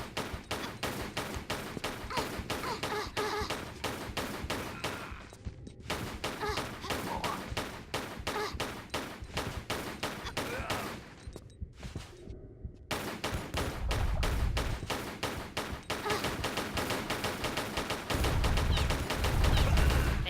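Guards open fire in a Tomb Raider level, a dense, relentless burst of rapid gunshots that runs almost without pause, with a few brief gaps and some deeper thuds near the end, loud and close.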